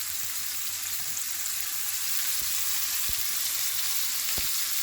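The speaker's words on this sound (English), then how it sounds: "we're going to flip over the shrimp" Shrimp frying in a pan over a medium-low flame, a steady broadband sizzle with occasional soft pops and crackles throughout, close and continuous with no talking.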